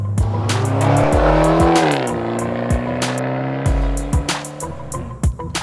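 A Fiat 500 Abarth drives hard and loud, its engine revving with clear gear changes and rising pitch, exhaust pops and crackles punctuating the run, close and dominant.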